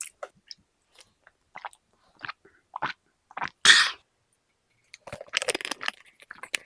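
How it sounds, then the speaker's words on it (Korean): Spicy Buldak fire noodles being eaten, with scattered soft chewing and slurping bursts close to the mic, separated by quiet gaps, then a busier run of mouth noises near the end. "마지막 먹어줄게요"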